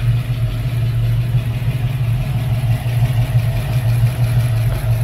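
A Ford Maverick V8 idles loud and close, a steady, deep throbbing rumble that holds an even rhythm throughout.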